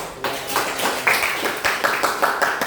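Classroom students clapping their hands together in a short burst of distinct, fairly close claps.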